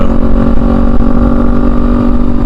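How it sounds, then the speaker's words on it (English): A Kawasaki Ninja 400 motorcycle exhaust drones steadily while riding, a loud, close, continuous engine hum with strong low rumble and even tone, no voices. "I'll just listen to this exhaust the whole ride."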